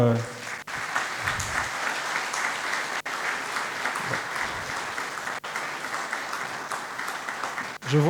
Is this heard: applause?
yes